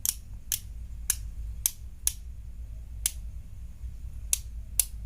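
A timer knob on a two-door refrigerator is turned to the defrost position, giving about eight sharp, close, quiet clicks at irregular intervals over a low background hum, with no talking.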